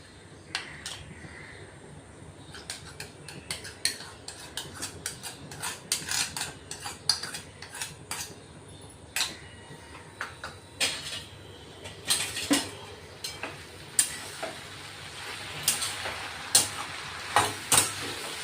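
Spoon scraping and clinking against a pan while a mixture is beaten on the stove, irregular metallic taps and scrapes growing busier and louder toward the end over a soft hiss.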